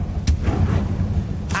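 Bombarda and Confringo blast spells going off in a PS5 video game, two short bursts near the start and end over a steady low rumble of game sound.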